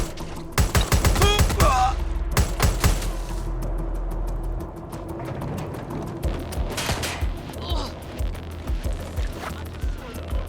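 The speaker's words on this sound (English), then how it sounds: "I hear a gunshot." Rapid bursts of video game gunfire from Watch Dogs: Legion crackle loudly, followed by scattered single shots and clattering impacts, with some talking mixed in underneath.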